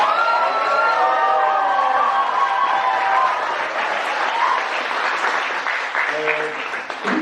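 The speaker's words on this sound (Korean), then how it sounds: "또 박수를 보내겠습니다." Church congregation applauding during an Easter Vigil Mass, a steady wash of clapping that fills the whole stretch at even loudness, with some voices and a brief tonal sound near the end.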